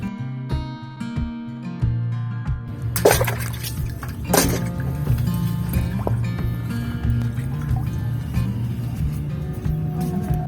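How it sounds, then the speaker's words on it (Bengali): Water splashes and drips as guavas are washed by hand in a village home, with soft liquid pouring and squishing sounds continuing over a steady background of music. "চলো বন্ধুরা পেয়ারাগুলো ধুয়ে নিই প্রথমে"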